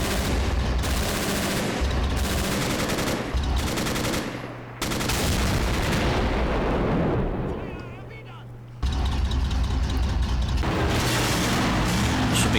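Tank cannon fire and battlefield din in the Men of War video game during a beach assault, with dense booming and gunfire throughout, two short lulls, and a voice talking over the action.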